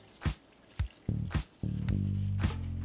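Water poured into a hot skillet holding chicken and crushed olives, a few quick splashy bursts followed by a close, steady sizzling bubble; no speech.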